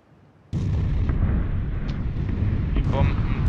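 Bombs exploding in the PUBG video game, a sudden loud blast followed by a sustained heavy booming rumble with scattered pops on top.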